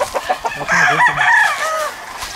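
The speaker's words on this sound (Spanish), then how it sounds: "Son pollos, sí." Chickens being raised on a small farm cluck and crow close by, a burst of excited calls with a rising crow, with no voices over them.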